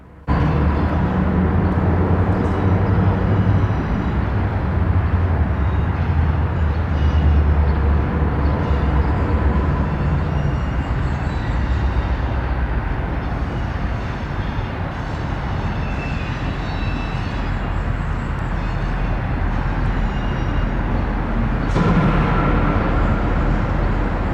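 Freight train switching intermodal well cars at Bensenville rail yard in Chicago, a steady loud rumble of rolling cars and locomotive drone sustained throughout, with a brief clank near the end.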